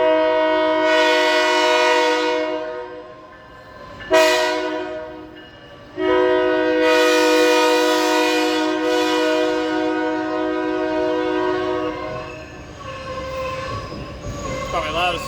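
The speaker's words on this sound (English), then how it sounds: "probably gonna hear the train horn in a second" A train passes close by, sounding a loud sustained multi-tone horn with two sharp breaks, rumbling wheels and clatter underneath, and ending with squealing brakes or wheels as the horn fades.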